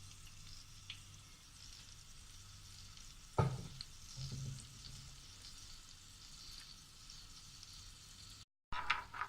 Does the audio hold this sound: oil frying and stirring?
yes